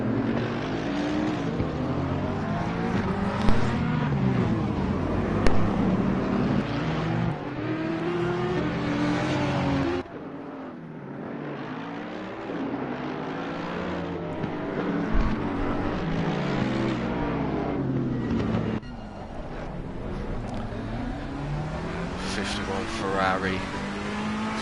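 Onboard engine of the #51 Ferrari race car at Monza in Assetto Corsa Competizione, loud and continuous with rising and falling revs through gear changes, steady throughout with a brief dip midway.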